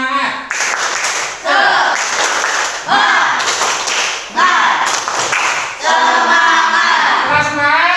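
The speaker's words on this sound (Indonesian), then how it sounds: "Untuk menambah semangat lagi kita tepuk semangat ya" A classroom group does a rhythmic clapping chant called tepuk semangat, with sharp bursts of unison claps between loud chanted voices, repeated several times in a brisk pattern.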